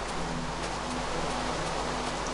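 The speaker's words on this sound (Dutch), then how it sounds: "Regen." Rain falls steadily in Minecraft, a dense, even wash of pattering noise with no pauses or voices.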